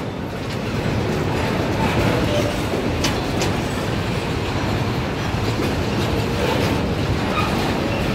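A freight train passes through the town of Jaraguá do Sul, Santa Catarina, Brazil, a steady loud rumble of wheels on rail with rhythmic clickety-clack that holds without a break.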